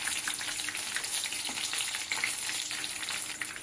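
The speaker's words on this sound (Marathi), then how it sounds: "आता आपण हे कॉर्न स्टिक तळून घेऊया." Breadcrumb-coated corn sticks fry in hot oil with a dense, even sizzle that holds steady and close throughout, with no talking.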